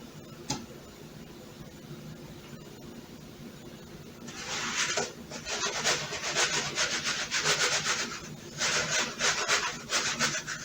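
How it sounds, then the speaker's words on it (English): Eggplant slices dipped in egg and breadcrumbs are shaken around in a bowl, giving bursts of close, gritty rustling and scraping after a quiet start. "I am shaking the bowl around a little bit to coat it, shaking off the excess"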